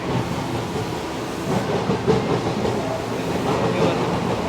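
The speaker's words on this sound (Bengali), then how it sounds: "local train" A local train in Japan rolls past with a continuous broad rumble and rattle of wagons, steady and fairly loud, rising slightly toward the end, with no clear talk.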